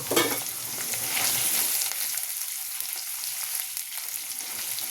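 Two kinds of lentils fry in oil with chopped ginger, garlic, green chili, dried red chili and mustard seeds for lemon rice, giving a close crackling sizzle with stirring scrapes throughout.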